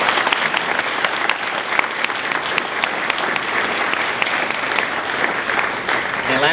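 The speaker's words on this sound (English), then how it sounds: "So if we could have one last round of applause for all of our students today." Audience applause for students being honored at a school breakfast event, a steady dense clapping from a roomful of parents and family that holds evenly throughout with no talk over it.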